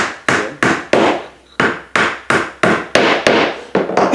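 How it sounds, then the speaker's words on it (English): Nails driven into the wood of a treehouse kit with a hammer: about a dozen sharp, loud, close blows in a steady rhythm, each ringing briefly before the next, with no talk. "I'm nailing a little bit sideways to be able to make sure that one feels really good there"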